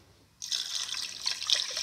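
Water pours from a jug into a pressure cooker pan holding beef pieces, starting abruptly with a bright splash that settles into a steady, close-up gush.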